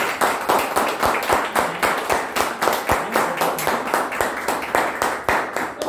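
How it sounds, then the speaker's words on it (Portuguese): A church congregation claps together during an evening service, steady rhythmic applause with many hands striking in unison, close and loud, continuing throughout with no talk over it. "Nós vamos dar uma salva de palmas para Jesus"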